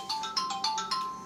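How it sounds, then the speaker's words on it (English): A phone alarm goes off with a quick repeating electronic ringtone pattern of bright chirping tones, steady and moderately quiet, with no talking over it. "That was my alarm going off saying that I have a lunch meeting here in a little bit."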